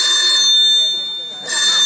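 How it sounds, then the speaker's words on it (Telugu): A telephone rings in short bursts during a Telugu village stage play, a loud electronic tone that breaks off briefly and then resumes, with no talk over it. "ఒక్క నిమిషం ఫోన్ వచ్చింది ఫోను"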